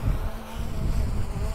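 Strong, gusty wind buffets the microphone outdoors during a DJI Mavic Air 2 drone flight, a loud, low, uneven rumble with a faint motor whine above it.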